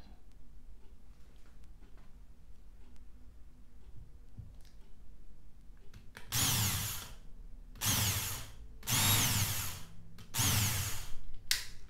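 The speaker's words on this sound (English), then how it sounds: "So the first part is to drill it out." A power drill bores tuning key screw holes in a Jazz Bass in four bursts, each a loud whining grind with short pauses between, after a quiet stretch of faint background noise.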